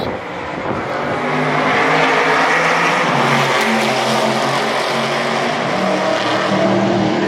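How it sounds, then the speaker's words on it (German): Aston Martin race cars at Yas Marina Circuit in Abu Dhabi, heard from the podium area: loud, droning engine notes swell in and hold with shifting pitch as the cars pass, with no voices. "So, man sieht hier die Autos."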